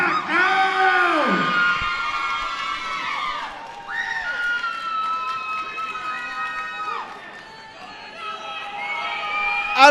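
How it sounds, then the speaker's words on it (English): A fight league crowd at a live MMA event yells and cheers with rising and falling shouts and whoops, loud and close, surging in waves over ten seconds with voices mixed in. "it sounds like at least half this crowd is here just for these two women"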